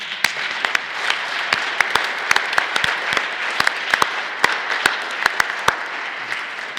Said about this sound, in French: Une bonne poignée d'applaudissements pour nos amis.